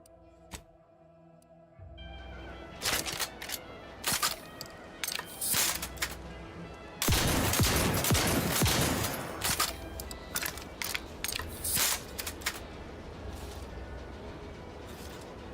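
A shotgun being reloaded in the OutWorlds 2 game: a series of sharp mechanical clicks and shell insertions, with a louder rattling burst midway and more clacks after, fairly close.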